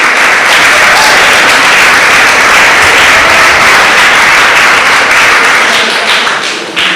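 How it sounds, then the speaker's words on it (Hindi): Audience applause welcomes the toppers at a school prize ceremony, a loud, dense and steady clapping that fills the whole stretch before tapering slightly at the end, with no voices over it. "मैं संजीव बाबू और राकेश सिंह राजपूत जी का आपकी जोरदार तालियों से स्वागत करना चाहता हूं।"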